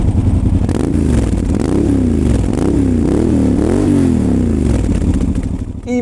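Motorcycle engine running steadily up close, its loud, rich exhaust note rising and falling through repeated revs, with a dry clutch rattle clattering underneath, until it cuts off near the end.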